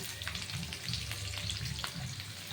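A whole onion sizzles in hot oil in a large kadai for navaratna curry, a close, steady frying crackle with light stirring scrapes and no voices.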